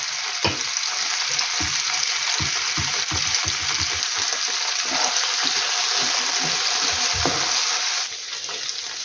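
Loud, steady sizzling fills the whole stretch, broken by repeated soft scraping knocks of a spoon stirring tomato paste into sour cream in a pan at an irregular rhythm.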